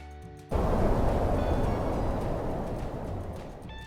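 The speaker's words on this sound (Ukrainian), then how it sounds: "це шум осіннього вітру." A strong autumn wind starts suddenly, a loud broad rushing roar that slowly eases off over a few seconds.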